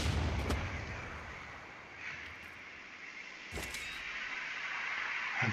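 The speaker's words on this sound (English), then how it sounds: "And bombard." A bombard siege unit attacks in Civilization VI, giving two sharp booming impacts a few seconds apart over a quiet rumbling background, with no talk.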